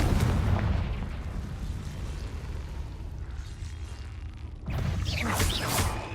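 The Confringo fire spell from Hogwarts Legacy bursts in a heavy rumbling blast with a sustained roaring tail, followed by a crackling, sparkling burst near the end, loud and close.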